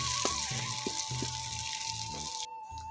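Lentil batter fries in hot oil in a pan, a steady broadband sizzle running close and even throughout, with a few low clunks and a brief drop in the hiss near the end.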